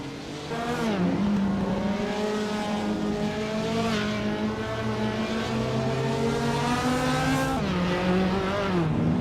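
Race cars in a racing video game, including a 1966 McLaren M1B, droning steadily with engine pitch rising and falling through shifts, loud and continuous with no talk.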